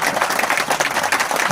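A church congregation claps during a Hindi-language worship service, a dense, steady roar of many hands close by that fills the whole moment without pause.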